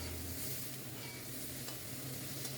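Foli fish curry with potato and eggplant sizzles steadily in a hot pan while being stirred, a soft continuous frying crackle with light scraping and no voices.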